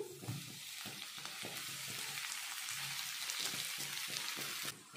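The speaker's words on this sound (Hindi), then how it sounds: "आलू डाल देंगे इसमें।" Boiled, hand-broken potatoes frying with onions in a pan, a steady close sizzle with intermittent stirring scrapes throughout.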